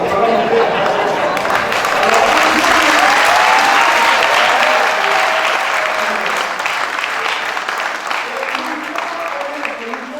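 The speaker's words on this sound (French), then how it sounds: "nous nous demandons de les applaudir très fort" An audience at a World Radio Day event claps loudly and steadily for about ten seconds. The sustained applause fades slightly toward the end, with faint crowd voices underneath.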